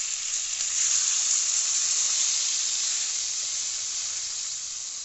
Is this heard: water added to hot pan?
yes